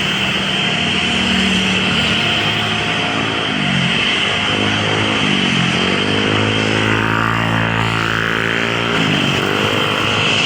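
Cebu Pacific airplanes take off, a loud continuous jet roar with rising and falling engine pitch that sweeps across the whole stretch, heard from outdoors without talk.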